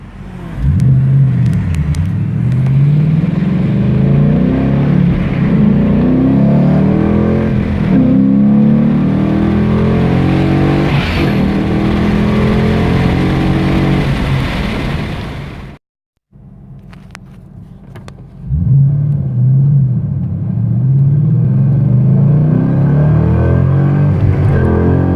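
A Team Z street-package car accelerating through gears while driving, its engine rising in pitch in repeated revving sweeps, loud and close, with a brief drop-out near the middle before the revving resumes.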